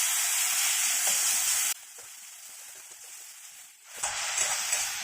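Onion and tomato spice masala fries in a pan with small splashes of water, giving a bright close sizzle that cuts to a quieter simmer partway through and then flares loud again.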